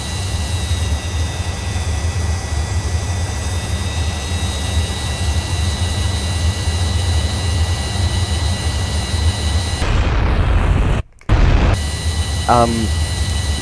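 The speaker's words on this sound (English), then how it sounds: "But since I am flying the Avro Vulcan that took part in the Falklands War," Avro Vulcan jet bomber engines in a flight video game roar steadily and loudly throughout, a dense continuous rumble with a brief dropout and a short whistling sweep near the end.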